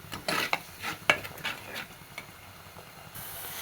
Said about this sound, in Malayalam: ഈ എണ്ണയിൽ തന്നെ നന്നായിട്ട് ഇത് മൂത്ത് തരണം